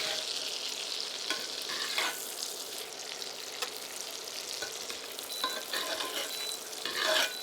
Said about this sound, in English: I'm going to take some of this and spoon that butter all over the steak.